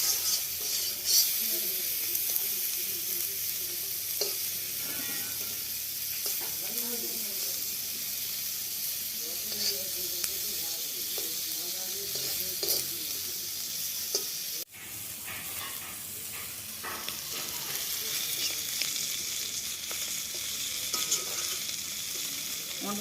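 Stinging catfish (shing fish) frying in hot oil in a pan at home, a steady close sizzle and hiss with occasional scrapes of stirring, briefly dipping midway before resuming.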